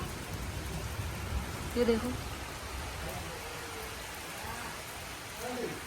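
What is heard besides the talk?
rain falling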